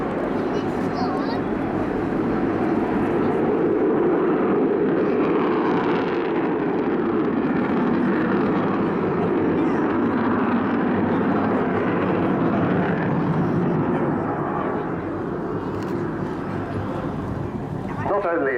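An Avro Vulcan XH558 jet bomber flies at the Southport air show, producing a loud, sustained broadband roar that swells and holds steady across the whole stretch, with a voice talking over it.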